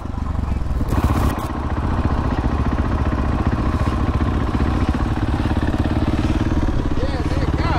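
A supermoto motorcycle rides along on a wheelie. Its steady mid-pitched engine drone runs throughout with some wind buffeting, and voices talk over it.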